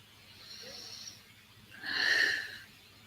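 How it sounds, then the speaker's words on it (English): Two slow, deep breaths sound close up: a soft, airy inhale, then a longer and louder exhale that swells and fades. "You actually don't have to make noise while you're breathing in and out."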